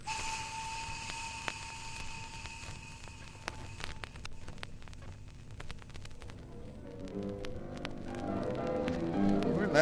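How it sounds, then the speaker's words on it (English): A train whistle blows as a sound effect in an old-time radio drama. A steady, fairly faint tone holds for several seconds over hiss and background noise, then gives way to a low rumbling. "Blow the whistle, Fred."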